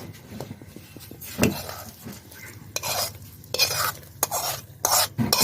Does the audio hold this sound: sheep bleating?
no